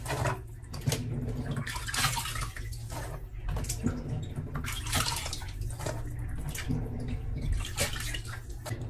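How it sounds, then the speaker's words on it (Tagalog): Vegetables are swished and rinsed in a basin of water, producing continuous close splashing and sloshing with rhythmic surges as hands move the produce around. "Kaya dapat nating hugasan itong gulay bago natin lutuin."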